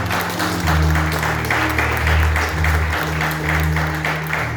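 A church congregation claps together in steady rhythmic applause, which swells and pulses over a low sustained musical tone throughout.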